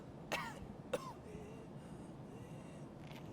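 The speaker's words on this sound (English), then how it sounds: "I think I'll stop coughing once this fresh wound goes away." A video game character gives two short, rough coughs close to the mic, then only quiet background ambience follows.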